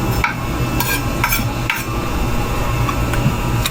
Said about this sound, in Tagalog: Tara, hiwain na natin ito at para maprito na natin itong talong.